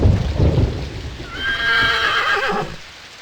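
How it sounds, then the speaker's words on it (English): A horse whinnies loudly and up close amid hoof clatter in the PSP game 300: March to Glory, the neigh rising and wavering for about a second before fading, with low thumping hoof and ambient noise underneath and no speech. "Hey, did you hear something? It's just the horses."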